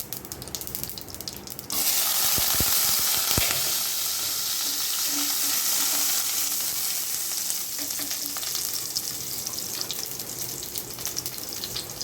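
Garlic dropped into hot oil with already-popped mustard seeds, cooking for a brinjal-tomato gothsu: a sudden loud sizzle bursts in after a quieter start and holds as a steady, close frying hiss with occasional stirring clatter.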